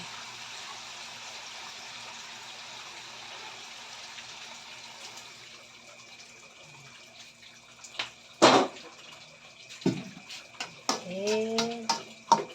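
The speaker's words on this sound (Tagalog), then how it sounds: "Lagyan na natin ng isang basong tubig para lumambot siya." Water is poured steadily into a cooking pot of sautéed mixed vegetables with pork, then a few clanks and splashes follow near the end, with a voice briefly heard.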